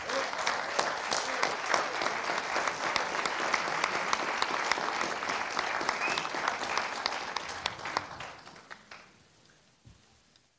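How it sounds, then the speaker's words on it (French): Sustained audience applause at the opening of the 2017 World Social Forum in Paris, a dense, even clatter of many hands that continues for about eight seconds before fading out. "Donc je vous remercie pour ces applaudissements"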